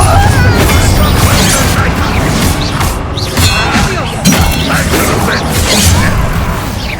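A Confringo fire spell explodes during Hogwarts Legacy combat, with loud dense blasts, crashes and thuds in rapid succession over a constant battle din, while a character shouts spell names.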